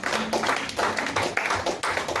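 A church congregation applauding during a pastor's service: steady, fairly close rhythmic clapping from a crowd, continuous throughout.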